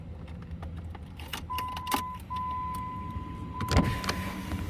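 A truck's power window hums steadily going down with a motor whine, briefly pausing and resuming, amid jingling keys and clicks inside the cab.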